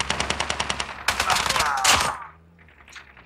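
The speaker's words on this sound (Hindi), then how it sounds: "अभी कौन सा कौन फायर कर रहा है?" Rapid automatic gunfire from Call of Duty Mobile gameplay, a fast burst of evenly spaced shots followed by a denser volley, then fading to quieter game ambience.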